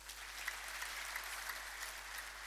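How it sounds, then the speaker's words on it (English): An audience at an Ethiopian agricultural and veterinary award ceremony applauds steadily, a dense even wash of many hands clapping throughout with no pauses. "Give the whole clap, please."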